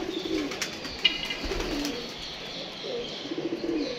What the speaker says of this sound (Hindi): ये देखें जी कबूतर है